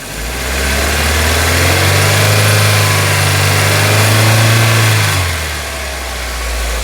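Vauxhall Astra F petrol engine, bonnet open during alternator work, revs up from idle to a steady raised speed for several seconds, then drops back toward idle; loud, close and continuous with no talking.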